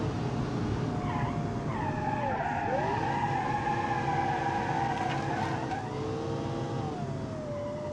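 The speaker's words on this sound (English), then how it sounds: "That's why the engine keeps revving to the moon" A 600-horsepower V12 car engine in the BeamNG.Drive game revving high without shifting, a sustained loud whine rising and dipping in pitch with tire skidding mixed in.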